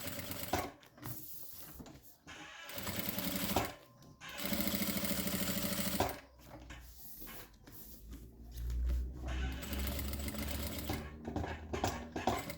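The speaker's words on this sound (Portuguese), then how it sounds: "agora a gente vai fazer uma costurinha de segurança a toda a volta aqui, ó, bem na beiradinha" Sewing machine running in bursts while stitching a safety seam around the edge of a synthetic lining for a cosmetic bag, a steady close whirring with short pauses between runs.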